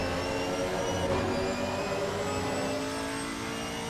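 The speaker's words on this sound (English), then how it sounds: "Let's go ahead and pop on board very quickly so we can hear what this car sounds like." A GT4 race car at Watkins Glen heard from on board, its engine roaring in a steady, loud drone that climbs in pitch, with no voices over it.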